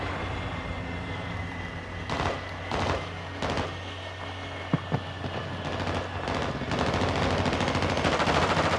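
Video-game gunfire from Modern Warfare 2 plays as rapid automatic bursts over a continuous rumbling, train-like background, with a few short sharp shots standing out near the middle.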